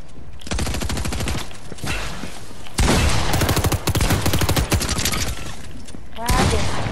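Rapid automatic gunfire in Fortnite, dense bursts of loud rattling shots in several long volleys with brief pauses, close and sustained, with faint voices mixed underneath.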